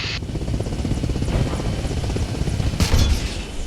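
Helicopter in the Arma Reforger military video game, a steady loud rotor and engine drone throughout with bursts of gunfire and a heavier boom near the end.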